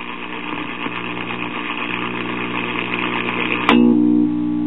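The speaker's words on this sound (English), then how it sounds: "motor off, motor on." A Sonora radio-record player's turntable motor runs with a steady, close mechanical hum and buzz, then a sharp click as it is switched, after which the hum continues at a lower, steadier level.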